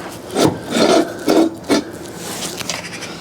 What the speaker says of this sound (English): I'm going to jack it a little bit more